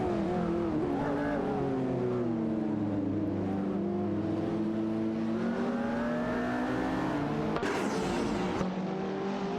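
Race cars in a racing video game, engines droning and shifting pitch as they rev and ease off, one car briefly surging louder, continuous with no talk.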